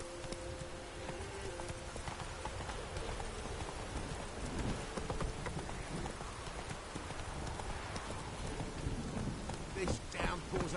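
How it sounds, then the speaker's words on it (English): A heavy video-game downpour hisses steadily and loudly throughout, with clip-clopping horse hooves mixed in and no talking. "This downpour's a bastard"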